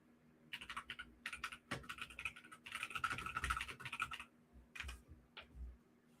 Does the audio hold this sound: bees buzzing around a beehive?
no